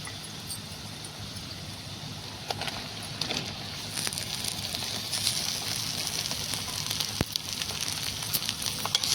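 Freshly picked brinjal (eggplant) frying in hot oil for a rustic curry, a steady close crackling sizzle with scattered sharp pops, growing slightly louder partway through, no talk.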